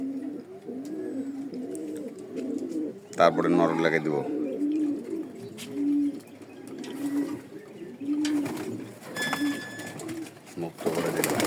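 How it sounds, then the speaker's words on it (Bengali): Racing pigeons coo close by in a loft just before release. Their repeated low, throaty coos come in a steady rhythm while someone talks over them, and there are brief wing flutters and bumps. "আজকে কবুতরগুলোকে মুক্ত করে দেবো।"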